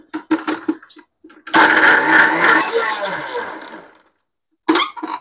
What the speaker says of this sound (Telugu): చేసుకొని నేను ఇప్పుడు దీన్ని బాగా మిక్సీ కొట్టేస్తాను.